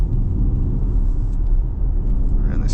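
Steady low rumble and road drone inside a 2026 Ford Mustang Mach-E electric car on a test drive, continuous and fairly loud with no voices.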